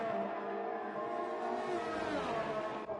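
Formula 1 race cars in a video game league race in Canada, running close in a slipstream with DRS open. High engine whines rise and fall as they rev and shift, close and loud, with no voices.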